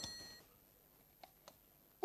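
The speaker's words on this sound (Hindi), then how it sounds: "देखिए इस घड़ी का अलार्म 2 बजे बज रहा है।" An alarm clock beeps in a quick electronic burst for a fraction of a second in a quiet room at night, followed by near silence and a couple of faint clicks.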